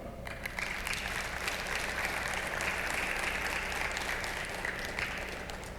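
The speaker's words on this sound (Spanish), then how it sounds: "Un aplauso." Church congregation applause during a sermon, a fairly quiet, steady wash of clapping lasting several seconds without a clear start or finish.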